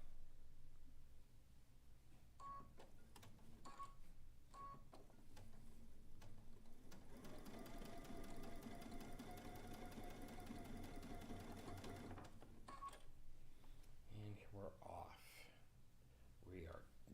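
A sewing machine stitching a zig zag quilt runs in a steady mechanical whir for several seconds, fairly faint, with soft clicks and handling sounds before and after and a voice talking at times.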